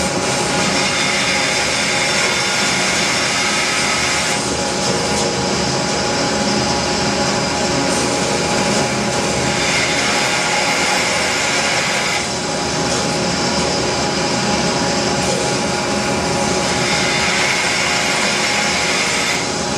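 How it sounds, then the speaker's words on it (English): Bandsaw running steadily while trimming the four corners off a wooden block for a turned bottle stopper, a loud continuous whine and rumble with the cut's pitch shifting as the wood feeds through; no talking. "So all I have to do is turn the bandsaw on and slide it through and cut off"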